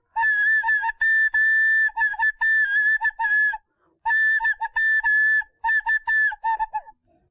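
A whistle blown over and over on a Marathi TV game show, sharp shrill bursts in a fast uneven rhythm with a short pause midway, loud and close with nothing else behind it.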